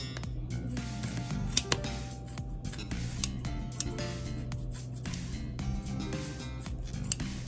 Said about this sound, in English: First, we will cut the meat into strips.